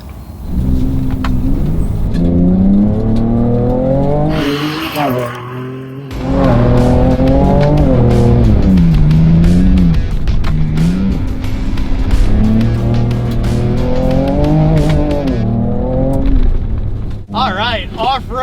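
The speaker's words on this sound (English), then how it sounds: "off-roading the Ford Ranger Raptor" A Ford Ranger Raptor pickup truck driving off-road, its engine revving and droning steadily with rising and falling pitch as it accelerates, loud and close, with people talking over it inside the cab.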